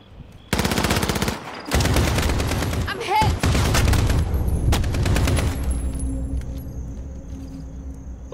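Bursts of automatic gunfire from multiplayer Call of Duty: Modern Warfare, loud and close, with rapid volleys and single shots firing in several clusters before fading to a quieter game background.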